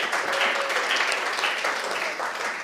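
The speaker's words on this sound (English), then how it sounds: "Can we have another round of applause for Ellen Mazer?" A seated audience applauds a speaker, Ellen Mazer, in steady, dense clapping that fills the whole stretch at an even level, with no gaps or voices standing out.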